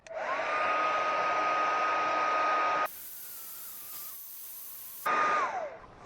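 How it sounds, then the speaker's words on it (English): A heat gun or hair-dryer-style blower warming the adhesive behind a Kia emblem, a steady loud whine and rush that drops to a quieter tone midway, then surges again before cutting off. "So we'll just heat it up again because a little heat always helps"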